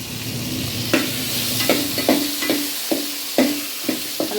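Vegetables fry in a pan for channa kolambu, a steady sizzle under repeated clanks and scrapes of a stirring spoon at an irregular pace, with no voices.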